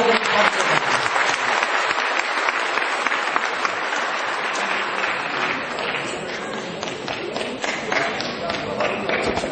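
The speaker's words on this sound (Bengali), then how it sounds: "আরেকবার আপনারা করতালির মাধ্যমে" Dense, sustained applause from a theatre audience after a stage drama, with steady clapping and crowd noise throughout and a voice speaking over it.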